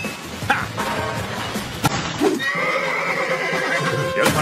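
A cartoon horse from the 2015 Danger Mouse animated series whinnies loudly, followed by clip-clopping hooves and a few sharp clatters, all fairly close and in the foreground.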